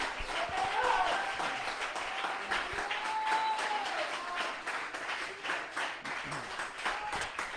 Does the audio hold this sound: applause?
yes